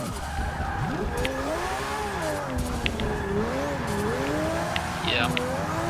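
Tires squealing and skidding as a Lamborghini drifts in Forza 6, a continuous wavering screech over engine roar, with a brief harder tap near the end, while someone talks throughout.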